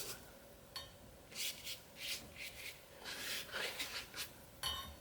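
Brush stroking clear water across the back of watercolor paper gives soft, close rubbing and swishing sounds in short repeated strokes, faint and without talk.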